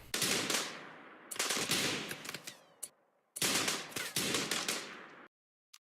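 Automatic gunfire in the colony game RimWorld, as a colonist sprays bursts of shots. Two long, loud rapid-fire bursts are split by a short pause, and a few scattered single shots follow before it goes quiet.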